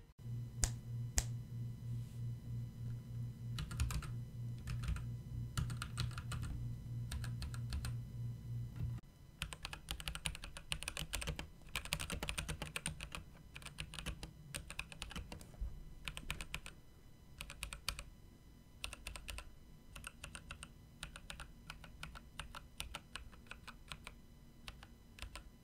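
Typing on a lubed, foam-modded Keychron C1 mechanical keyboard: quiet clusters of soft clacks and key bursts over a steady low hum, close and with no talk.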